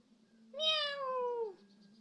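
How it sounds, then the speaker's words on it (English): A cat gives one drawn-out meow of about a second, loud and close, rising then sliding down in pitch, over a low steady hum in a village outdoor setting. "See our cat."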